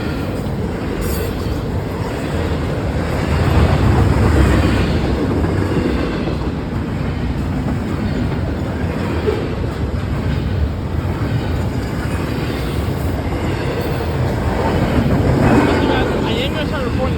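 A freight train with a fresh locomotive leading rolls past on River Road, a steady broad rumble mixed with wind buffeting the microphone, swelling slightly around the middle and near the end.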